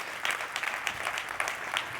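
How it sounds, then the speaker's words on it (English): Brief applause from a conference audience at OpenSearchCon North America 2024, a dense, fairly steady patter of many hands clapping at moderate volume across two seconds, with no voices over it. "You can all clap."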